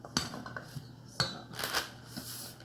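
Roasted chickpeas tossed in a bowl with a utensil: a few sharp clinks and scraping rattles, close and fairly loud, with a longer rustling scrape near the middle and no voices.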